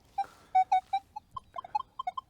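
Minelab Manticore metal detector set to maximum sensitivity, giving a quick run of irregular, sharp electronic chirps and beeps of varying pitch over near silence.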